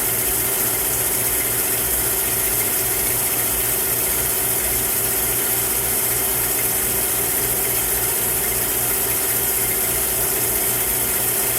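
Mazak CNC lathe drilling 316 stainless steel bushings with a high-speed drill, a steady, dense machine hum and hiss throughout with a faint repeating low pulse, with no talking.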